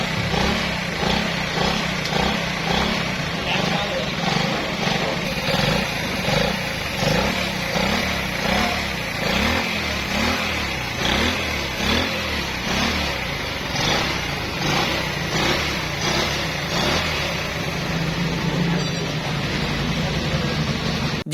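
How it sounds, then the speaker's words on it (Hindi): A motorcycle engine, its ignition converted from points to a CDI unit, runs steadily at idle, a continuous close rumbling putter that stays even throughout. "तो फिर आपने बाइक को स्टार्ट कर लेना है"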